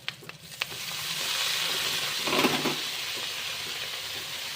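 Jute leaves fry in a pan with turmeric, to be cooked with fish roe, sizzling steadily while being stirred, with scraping strokes and a louder hissing surge partway through.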